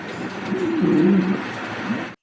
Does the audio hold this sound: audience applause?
no